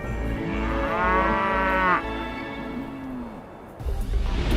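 Cattle mooing on a farm in rural Saskatchewan, a couple of long, loud, close lowing calls drawn out over the first few seconds, with another animal starting at the end.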